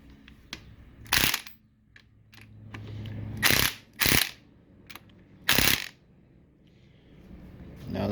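Bursts of wrench ratcheting snug a connecting rod bolt on a 1929 Chrysler 360 engine, with several short loud clicking runs and faint metal handling sounds between them, close up with no talk.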